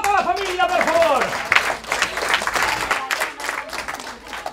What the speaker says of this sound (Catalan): donem un fort aplaudiment per a tota la família, per favor!